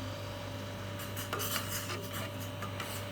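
A spoon scrapes and rubs around a pot while instant granulated coffee is stirred in, a steady rasping scrape with a low background hum and no talking.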